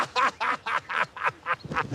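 A run of about eight loud, nasal duck quacks in quick succession, close and clear with no talking.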